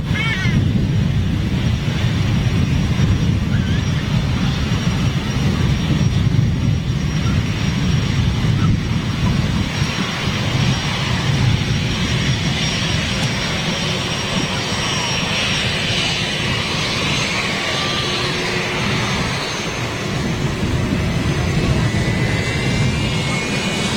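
A Virgin Atlantic Boeing 747 on its retirement flight taxis and turns at Manchester Airport. Its jet engines produce a loud, steady, close roar with a low rumble and a faint high whine throughout.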